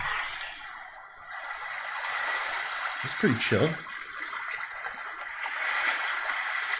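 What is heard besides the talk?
recorded ocean ambience played during livestream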